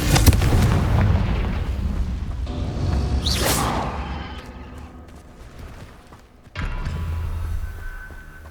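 Confringo fire spell blast in Hogwarts Legacy on PS5, a loud booming explosion with a rumbling tail that fades over several seconds, followed by another heavy burst, with no talking.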